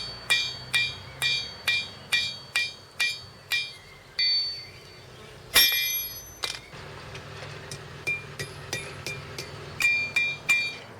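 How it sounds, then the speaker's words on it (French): A hammer strikes a Damascus steel blank being forged into a Japanese gyuto knife, loud ringing metallic blows coming in a steady rhythm of about one per half second, then a brief pause and more spaced, slightly quieter hits. "Je reprends le forgeage avec pour objectif de faire disparaître les trous de fraisage et étirer l'ébauche pour en faire une lame utilisable"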